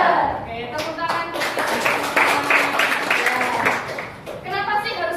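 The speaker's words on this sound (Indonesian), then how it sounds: "Oke, tepuk tangan." Classroom applause at a teachers' coaching session, a steady wash of many hands clapping for several seconds with voices mixed in, tapering off briefly before resuming near the end.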